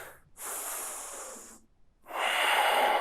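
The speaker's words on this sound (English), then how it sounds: "Deep, conscious breaths" Deep, slow breaths drawn during a yoga chair pose, heard close and airy: one long breath, a brief pause, then a second, stronger breath that carries to the end.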